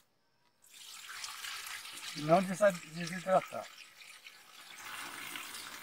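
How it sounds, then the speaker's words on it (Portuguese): Water poured from a tap into a container holding cassava cuttings, a steady splashing flow running for several seconds while a person speaks over it. "Agora vamos colocar a água até em cima, para poder ela ficar aqui na água"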